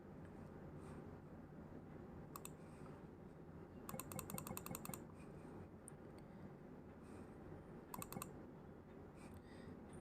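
Computer keyboard typing comes in short bursts of quick clicks separated by pauses, faint and close over a low steady room hum.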